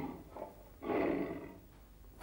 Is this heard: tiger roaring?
yes